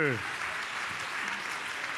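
Crowd applause at a conference event, a steady wash of clapping that starts just as a voice fades at the beginning.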